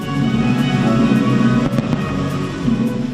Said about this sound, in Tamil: தலைநகர் பாரிஸில் உள்ள வெர்சாய்ஸ் அரண்மனையில் நடைபெற்ற இந்நிகழ்ச்சியில் கண்கவர் வான வேடிக்கை நிகழ்த்தப்பட்டது.